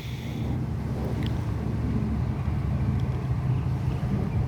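Steady low rumble of a three-engine towboat pushing barges on the Mississippi River, continuous and fairly loud, with a constant deep drone and faint wind noise throughout.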